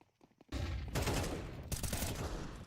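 Desert Eagle and Tech-9 fire in a competitive Counter-Strike match, a dense loud burst of rapid shots with a brief pause, then another heavy volley, close and aggressive.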